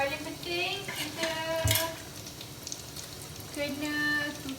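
Spiced chicken sizzling and crackling in hot oil over low heat, a busy steady spatter, with faint voices murmuring in the background.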